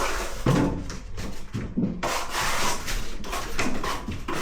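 A plastering trowel sweeps across wet plaster on a wall, giving close, scraping strokes that swell and fade with each pass, with no voices heard.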